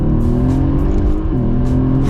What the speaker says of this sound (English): Downshift, floor it.